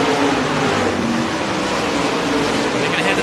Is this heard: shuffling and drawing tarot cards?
no